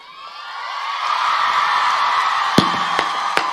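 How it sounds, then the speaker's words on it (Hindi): Live audience at a Hindi poetry recital by Dr. Hariom Pawar bursts into sustained applause and cheering, a broad crowd roar building over the first second and holding steady, with a few sharp claps or thumps near the end. "बिना समझे तालियां मत बजाओ"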